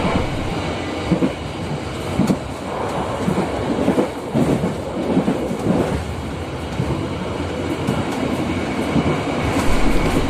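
A passenger train running between Yogyakarta and Garut rumbles steadily from inside the carriage, with rhythmic clickety-clack of wheels over rail joints and occasional louder jolts, continuous and moderately loud.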